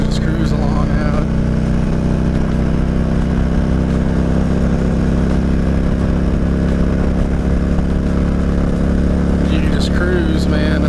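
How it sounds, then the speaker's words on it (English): A 2000 Harley-Davidson Road King cruises along a highway near Savannah, Georgia, its engine a steady, continuous low rumble with wind rush throughout. "Very comfortable motorcycle."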